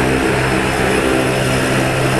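Loud, steady drone of a skydiving airplane's engine and propeller, filling the whole moment without a break and with no talk over it.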